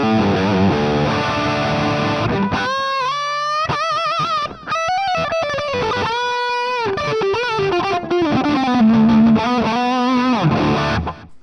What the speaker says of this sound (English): you can see 0C here is the British lead sound, which we'll put it on the bridge pickup, and it sounds like this.